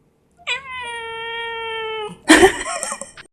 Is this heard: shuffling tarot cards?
no